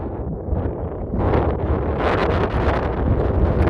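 Strong wind blows outdoors during a hunt, buffeting the microphone in a loud, continuous roar that swells partway through, with no voices.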